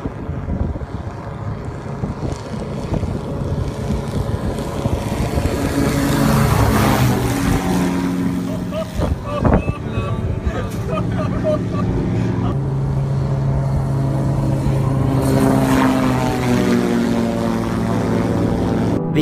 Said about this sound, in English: it's a plane that's designed to fly right above the water